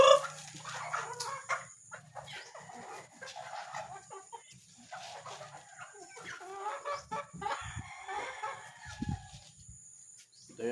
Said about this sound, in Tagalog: Ayan po ang ating mga manok.